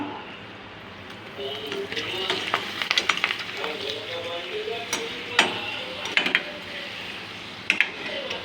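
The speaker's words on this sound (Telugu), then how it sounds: "పప్పు అంచుకు ఇక నేనైతే గొట్టాలు వేయించుతున్నా" Tube-shaped fryums (gottalu) fry in a pan, with a soft sizzle under clinks and scrapes of utensils against the pan. A person talks over the cooking.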